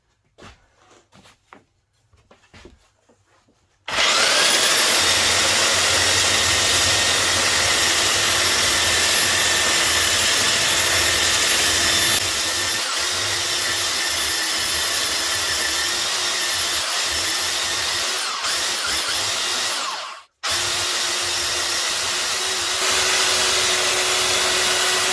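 A belt sander shapes the corner of a walnut bar top, a loud steady whining roar starting after a few seconds of quiet handling noises and continuing with one brief cutout near the end.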